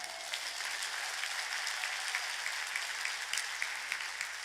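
A church congregation claps together after a call to applaud those blessed by an elder's testimony during a sermon, a steady dense patter of many hands held at an even level for several seconds.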